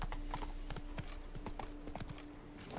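Roach the horse galloping in the video game The Witcher 3: Blood and Wine, with quick, rhythmic clip-clop hoofbeats at a fast steady pace, moderately close over a faint low hum.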